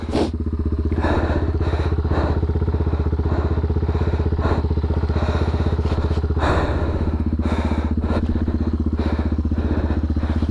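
A Yamaha TW200 motorcycle on studded tires churns through more than a foot of deep snow, its single-cylinder engine droning loud and close the whole way, with a few throttle surges and thumps breaking the steady note.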